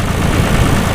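A John Deere 2240 tractor engine runs at a cold start, a steady, loud low-pitched rumble that holds unbroken and close throughout.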